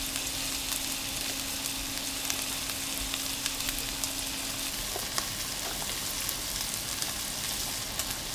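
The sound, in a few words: sautéing carcasses with carrot and onion in a pan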